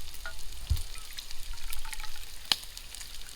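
A soft, steady crackle of bacon frying in a pan at a campfire, with a couple of sharp pops and light clinks over the sizzle.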